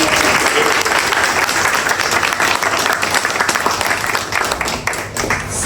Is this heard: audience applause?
yes